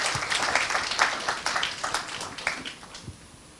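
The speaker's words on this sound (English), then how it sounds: "let's give them a round of applause one more time for" Audience applause for youth panelists at a World Vision campaign launch in Asia Pacific: a steady patter of many hands clapping at moderate level throughout, thinning slightly toward the end.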